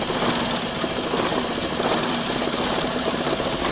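A 2003–2006 Mitsubishi Lancer GDI engine with a loss of power and an idle fault runs steadily at close range, a constant broadband mechanical drone with no clear rev rise, alone without voices.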